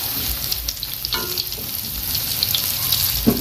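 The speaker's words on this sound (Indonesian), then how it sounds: "Rebus ubi kayu akan kita goreng ya" Steady frying sizzle of boiled cassava in crackling oil, close and continuous, plus occasional clinks of a utensil stirring in the pan.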